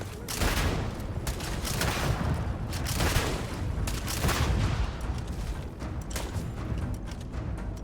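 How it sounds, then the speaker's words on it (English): Enemies shooting guns in the space game Starfield, a busy barrage of repeated loud bursts and booming impacts close by, sustained throughout with a faint voice mixed in. "They shoot bullets"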